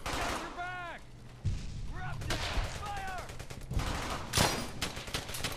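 Rapid bursts of rifle and machine-gun fire crackle in a World War II shooter, Brothers in Arms: Hell's Highway, mixed with shouting voices and booming shots that come in clustered volleys.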